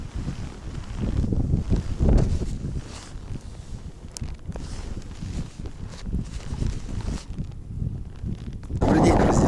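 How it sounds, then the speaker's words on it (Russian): Strong blizzard wind blasting across the frozen Ruza river during ice fishing, a loud continuous roar buffeting the microphone, with scattered crunching steps and bursts of talk. "Не знаю, слышите, такой ветер сильный, практически ураганный."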